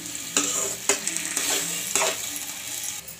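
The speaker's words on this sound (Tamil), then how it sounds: "நல்லா இந்த மாதிரி மிக்ஸ் பண்ணி விட்டுக்கோங்க." Ground raw mango paste stirred in a hot pan for mango thokku, with a sizzling hiss and repeated scraping strokes of a utensil against the pan, close and steady, with no voices.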